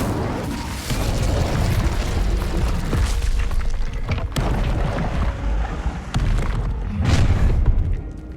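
A fire spell cast in Hogwarts Legacy bursts into a loud, continuous roar of booming flame and rumbling thuds, with sharp cracks and a heavier surge near the end, no voices over it.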